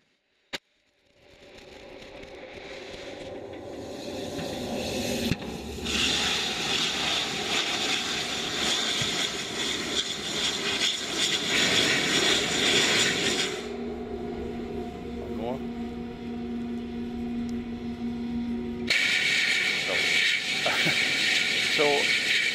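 A rocket booster lands on a moving drone ship at sea, a long loud roar of engine noise with rumble and hiss that builds, cuts out and returns, with a steady tone partway through.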